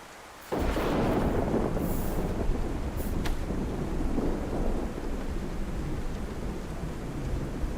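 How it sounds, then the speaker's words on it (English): Heavy rain in the survival video game Livonia starts abruptly and pours steadily as a loud, dense rumbling roar, with a faint sharp crackle partway through. "If the rain's too much, please tell me."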